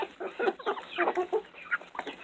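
Young chickens kept in an air conditioner cage on a chicken farm cluck and chatter in a busy, continuous flurry of short calls, fairly close and without any talk.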